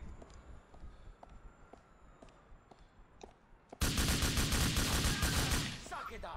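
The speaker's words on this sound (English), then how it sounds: "Somebody else is over here shooting at me." Gunfire in Grand Theft Auto IV: scattered faint distant shots, then a sudden loud, sustained burst of close rapid fire lasting several seconds with no talking.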